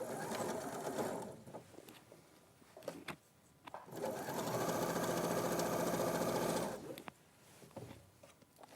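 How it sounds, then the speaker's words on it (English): A sewing machine stitches through a fabric pocket in a steady, whirring burst lasting a few seconds, with shorter starts before it and voices talking quietly in between. "you'll be sewing through and securing the whole pocket then"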